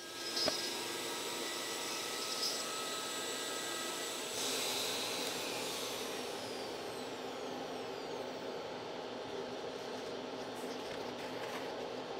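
Shaper Origin handheld CNC router cutting an inlay makes a continuous high-pitched motor whine and roar with a dust-extraction hiss, steady throughout with slight shifts in load, no talking.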